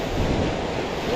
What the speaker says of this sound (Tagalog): Grabe yung alon na.